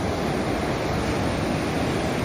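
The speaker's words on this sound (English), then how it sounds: "The sound of the water" Ocean surf washing onto the sand at Black's Beach in La Jolla, California, a steady, full roar of waves with wind rushing across the microphone, continuous and fairly loud with no voices.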